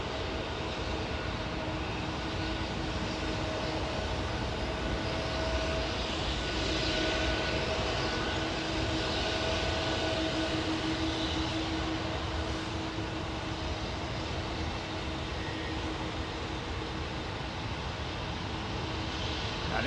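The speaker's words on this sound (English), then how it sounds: "see Iberia using their 330 today, CF6 powered jet" An Iberia Airbus A330 with CF6 engines idles or taxis at London Heathrow, a steady droning turbofan hum with faint tonal whine, constant and moderately distant, with no voices over it.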